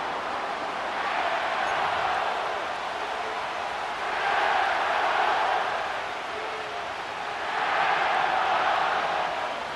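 A stadium crowd in the Madden NFL 25 video game at SoFi Stadium in Inglewood, cheering steadily in a broad roar that swells three times in slow waves.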